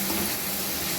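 Chicken, capsicum and onion fry with salt in a hot pan, giving a loud, steady sizzle with no voices for a brief moment.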